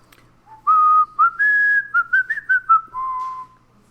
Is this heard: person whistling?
yes